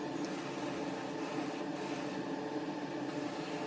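Airbrush spraying dark green paint in a spray booth onto an Airfix 1:72 Bristol Blenheim Mk.IV model kit, a steady close hiss with extraction fan noise running continuously throughout, with no talk.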